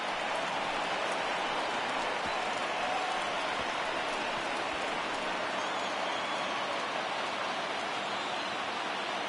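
A stadium crowd in the MLB The Show 20 video game, during an Astros vs Rays franchise game, keeps up a steady, dense roar of cheering that fills the whole stretch evenly, with no distinct voices standing out.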